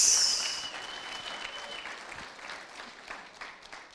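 A church congregation bursts into applause that starts loud and full, then settles into steady, scattered clapping with a few voices mixed in.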